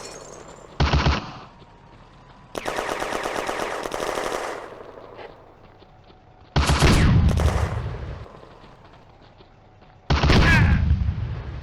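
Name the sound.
Hotchkiss machine gun suppressing fire on German machine gun nest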